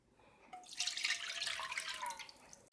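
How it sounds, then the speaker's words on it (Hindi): Two cups of milk are poured into a cooking pot for homemade condensed milk, a steady continuous liquid pour that starts after a brief quiet moment and runs to the end, close and fairly soft. "तो देगची में 2 कप दूध डालती हूँ।"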